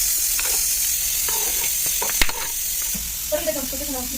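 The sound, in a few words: frying onion, tomato, spices and coconut in a pan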